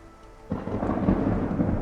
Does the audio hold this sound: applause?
no